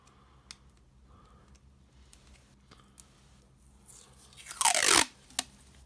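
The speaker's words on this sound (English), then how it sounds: "I'm just going to grab some masking tape, if I can undo it." Masking tape is pulled and torn off a roll during paper crafting: quiet small crinkles and ticks, then one loud ripping tear near the end followed by a short click.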